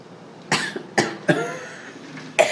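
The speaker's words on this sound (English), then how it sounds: "Coughing now." Several separate coughs, about four sharp bursts spaced unevenly, from a person at a township work session, fairly close and alone with no talk over them.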